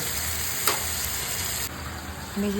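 Mixer rinse water being poured into a sizzling pan of hilsa fish in yogurt sauce, making a brief faint hiss and sizzle with a soft splash partway through, heard close and alone.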